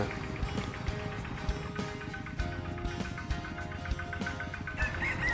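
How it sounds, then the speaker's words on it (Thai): A small walk-behind tractor fitted with a disc plough churns through a wet field, its engine chugging in a low, steady rhythm under a wash of wind and splashing. "ก็นี่นะครับรถไถเล็กนี่นะครับ ที่เราใช้ไถนา"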